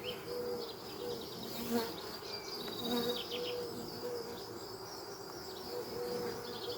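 Honeybees buzz in a steady, faint drone around an artificial swarm hive that has lost its queen, a continuous close humming with occasional louder passes as individual bees fly near.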